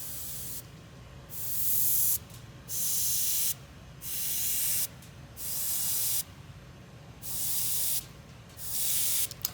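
An Infinity CR+ airbrush lets out six short bursts of hissing spray while laying down small dots. Each burst lasts about a second and is separated by brief quiet pauses, close up and fairly loud, with no talking.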